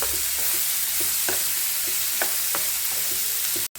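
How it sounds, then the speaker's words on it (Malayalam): Onions and two or three green chillies sautéing in a pan for a Kerala-style chicken roast: a steady, close sizzle with occasional light clinks and scrapes of stirring, no voices, ending in a brief cut. "2-3 പച്ചമുളക്, സവാള, ഇതും കൂടെ നമുക്ക് നന്നായിട്ട് വഴറ്റിയെടുക്കാം"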